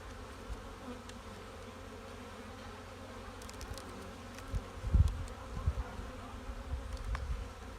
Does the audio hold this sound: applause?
no